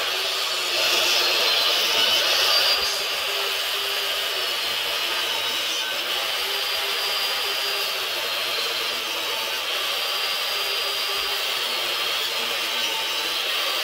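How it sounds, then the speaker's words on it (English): A power saw cuts wood for a beam during a garage makeover, giving a steady, moderately loud broadband whine that runs unbroken through the whole stretch with no talk over it. "We're still cutting wood."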